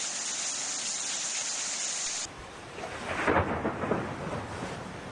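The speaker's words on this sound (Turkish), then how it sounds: "Beklenen yağmur geldi gelmesine ama bu kez de sel, taşkın ve fırtına hayatı olumsuz etkiledi." Rain pours steadily during a thunderstorm in Antalya, with a deep rumble of thunder swelling through the middle of the storm and then fading back into the hiss of rainfall.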